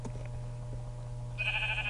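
A single video-game sheep bleats in a short, fairly faint burst near the end, over a steady low background hum.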